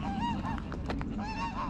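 Geese at a pond in Poolsbrook Country Park honk repeatedly in a rapid back-and-forth chorus, fairly close, with outdoor background noise underneath.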